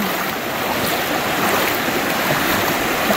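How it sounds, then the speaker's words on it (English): Strong stream current rushing around a hiker wading a rocky, slick creek crossing on the Ozark Highlands Trail, a steady broadband wash of water loud and close throughout, with no voices. "here we are, making this treacherous water crossing. Woo. And the current's strong."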